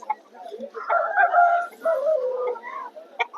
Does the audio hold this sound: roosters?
yes